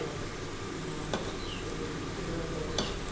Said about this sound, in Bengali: সেই জন্য আমি মিডিয়াম আঁচে দিয়েছি, যাতে আস্তে আস্তে খুব ভালোভাবে ভাজা ভাজা হয়